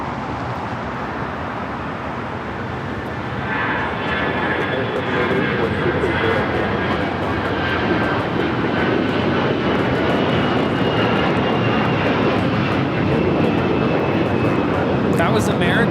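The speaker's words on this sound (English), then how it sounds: "That was American Airlines 2596 taking off to Charlotte on the A321." An American Airlines A321 jet takes off at LAX, its engine roar a steady broadband rumble that builds and holds loud throughout, with a faint rising whine on top.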